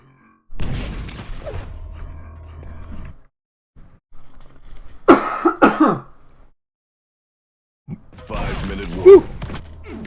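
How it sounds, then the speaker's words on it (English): Someone hacks and coughs to clear ice from their throat: harsh, rasping bursts in a few separate fits with silent gaps between, close and loud. "I meant to mute my microphone so I could go cough this ice out of my throat"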